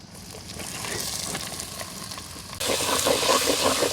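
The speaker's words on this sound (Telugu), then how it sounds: "అదే నూనెలో సన్నగా తరిగిన ఎర్రగడ్డలు వేసుకుందాం." Thinly sliced onions fry in hot oil that was just used for prawns, giving a steady close sizzle that jumps louder partway through and then stays loud and crackling.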